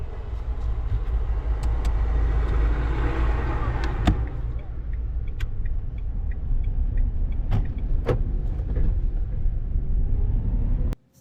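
A car pulls away from standstill during a beginner driving lesson, its engine running steadily in a loud, continuous low rumble with a few sharp clicks and knocks over it before cutting off abruptly at the end.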